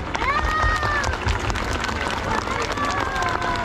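Dense crowd applause at an outdoor Christmas tree lighting ceremony in Yuriria, 2022, sustained and fairly close, with a babble of voices mixed into the clapping.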